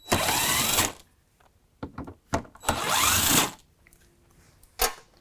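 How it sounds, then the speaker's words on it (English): A 7/32 socket tool loosens and removes two bolts during a fog light bulb replacement on a vehicle. Two long, close whirring bursts are followed by scattered clicks and a final sharp snap, with no talking. "So what we're going to use is a 7/32 to pull off these two bolts."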